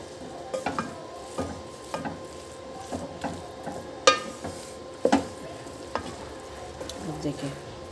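Leftover rice being stirred and mixed in a hot pan for BBQ rice makes a continuous light sizzle, with repeated scraping strokes and a few sharp spoon clinks against the metal.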